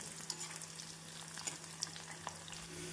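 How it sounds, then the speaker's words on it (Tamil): Onions frying in oil until brown for chicken dum biryani, a quiet, steady sizzle with a faint low hum beneath it and a few soft ticks and pops scattered across it. "வெங்காயம் ப்ரௌன் கலராக வரும் வரை நாம் வறுத்து எடுக்க வேண்டும்"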